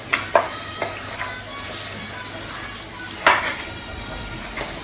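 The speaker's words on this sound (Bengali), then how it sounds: "মিলাই দাও ভালো মতো" Turmeric being stirred into a Bengali chicken masala curry, with a spoon scraping and clinking against the pot in scattered knocks over a low background hum.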